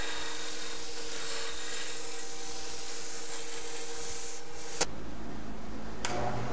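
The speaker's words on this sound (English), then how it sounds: "so then I gotta sand on it a little bit. My belt sander." Steady abrasive rasping of a belt sander grinding a metal Jeep parking brake part, a continuous close-up scrape that cuts off abruptly near the end with a couple of sharp clicks.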